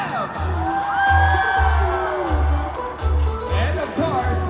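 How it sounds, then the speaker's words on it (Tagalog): Fans shout, whoop and cheer for a team during a game segment at a fan event in a mall, a loud continuous crowd roar with rhythmic thumping underneath. "Yung sigaw mo yung pinakamalakas Jerome yan"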